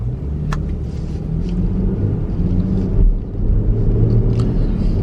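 Car driving along a road, a steady low engine and road rumble with faint wind noise, continuous and fairly close throughout.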